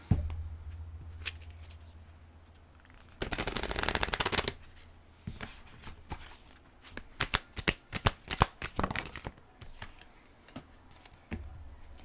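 Oracle cards shuffled by hand to draw an advice card, with a dense riffling burst around the middle followed by a string of sharp, close flicks and taps; no talking.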